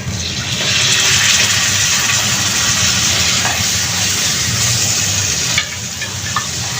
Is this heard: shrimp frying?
yes